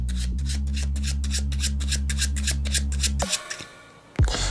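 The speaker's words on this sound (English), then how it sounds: "I'm gonna give the deck a little shuffle." Rapid riffle of playing cards, a quick run of crisp flutters over a low hum, ending with a few soft taps and a short rustle.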